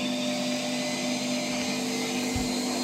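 A Bosch Classixx 5 washing machine runs after repair of its E2 error, producing a steady, loud motor hum with a strong low tone, close by and continuous, with a couple of faint low thumps and no talk.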